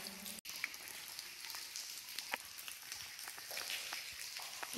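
Water trickling and dripping inside a cave, a faint, steady hiss with scattered small splashes and drips, quiet and uninterrupted, no talk.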